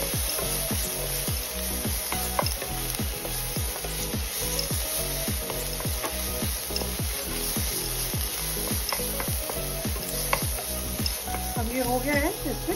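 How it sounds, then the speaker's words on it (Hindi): Ginger frying in a pan, a dense close sizzle punctuated by a rapid, regular series of tapping and scraping strokes from stirring, with faint talk briefly at the end. "अदरक डाल देंगे और इसको थोड़ा भून लेंगे।"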